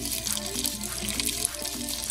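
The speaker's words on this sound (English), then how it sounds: "add it to a pot and top it off with water" Tap water runs steadily into a cooking pot holding bite-sized cauliflower pieces, a continuous close splashing trickle that lasts the whole moment with no talking.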